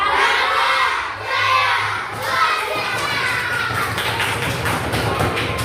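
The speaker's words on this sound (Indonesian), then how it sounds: "Tepuk tangan untuk kita semua" A crowd of children claps and cheers, with shouting voices mixing into rapid, scattered applause that picks up halfway through.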